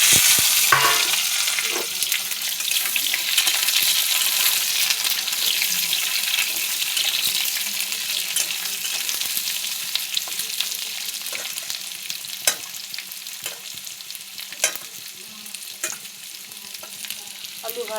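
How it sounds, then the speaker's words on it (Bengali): Potatoes fry in oil with panch phoron spice in a pan, a steady bright sizzle running throughout, broken by occasional sharp scrapes and clacks of stirring. "আলু ভাজা হোক।"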